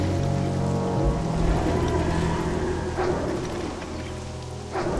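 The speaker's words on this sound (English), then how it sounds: "Rainy Westfall is a vibe." Steady rain falling in Westfall in World of Warcraft Classic, a continuous wash of patter with soft low rumbles and a couple of sharper splashy bursts.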